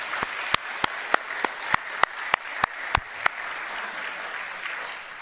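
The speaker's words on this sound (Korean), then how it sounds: "여러분 다시 한번 오늘 8명의 수상자들이 크게 박수 한번 해주겠습니다." A church congregation claps for eight award winners, a sparse ragged patter with about a dozen sharp, distinct claps over a soft background before it fades out.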